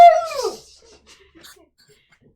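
Two excited dogs whimper and yip at home, opening with a loud, close, rising-then-falling whine followed by a few faint scattered yips and squeaks fading into near silence.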